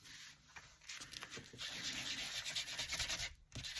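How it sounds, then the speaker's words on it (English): A Tim Holtz sander scratches across a postcard in close, quick rasping strokes, a dry rough scrubbing that pulses irregularly with brief pauses. "I'll go over it with the Tim Holtz sander. Now that scratches it."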